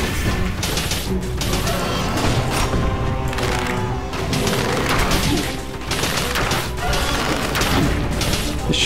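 Loud, dense Dead Cells boss combat sounds: heavy booming impacts and crackling fiery blasts from a ground punch that sets the floor alight, in rapid succession, with music or effects layered throughout.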